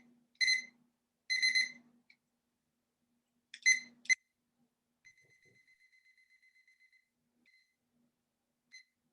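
A digital timer alarm sounds in short bursts of rapid beeps, three clusters a second or two apart, then trails off into faint, thin tones and a last lone beep in an otherwise silent room.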